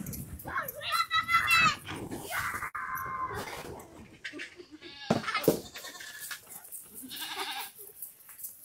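A goat bleats several times in short wavering calls on a village farm, mixed with other animal noises and people talking nearby.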